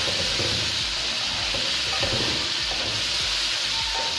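Chicken pieces frying in a pot for pulao, a steady loud sizzle throughout with stirring scrapes and knocks from the spoon, close up and with no voices.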